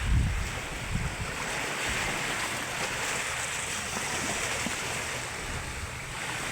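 Noisy sea waves beside a seaweed farm under a cold northeast monsoon wind, a continuous loud surf roar with heavy wind buffeting the microphone, no voices.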